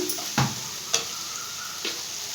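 Ridge gourd pieces cooking with softened tomato in a pan on medium heat for a curry, a low continuous sizzle broken by three sharp clinks of a utensil against the pan.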